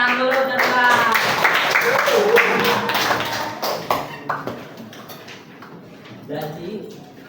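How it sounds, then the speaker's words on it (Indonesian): Scattered hand claps in a classroom, a few sharp slaps amid a noisy room with voices talking over them, trailing off toward the end. "Tuh, tepuk tangan dulu Nabila."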